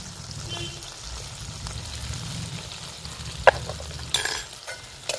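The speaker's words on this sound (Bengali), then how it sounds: "আবারও আমি মশলাটা ভালো করে একটু কষিয়ে নেব" Onion, ginger, garlic and spice paste fry in a pan for a prawn rezala, giving a steady low sizzle with a single sharp clink and a brief scraping burst near the end.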